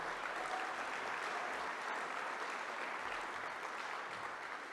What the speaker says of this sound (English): Let's have another round of applause for Dot